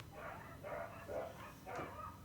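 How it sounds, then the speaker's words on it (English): Dogs bark outdoors in a short burst of four yappy barks at a steady rhythm, muffled and moderately distant. "Very angry dogs outside, or very happy dogs, one of the two."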